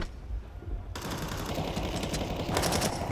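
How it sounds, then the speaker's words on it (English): Rapid automatic gunfire from a Counter-Strike match firing through a wall, a loud continuous burst of shots that starts abruptly after a brief lull and runs to the end. "Already, that's a gnarly wallbang, and the nade in combo with it."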